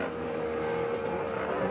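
A race car roars past at the Simararing circuit in Debrecen, a fairly faint, steady engine whine heard at a distance with no voices over it.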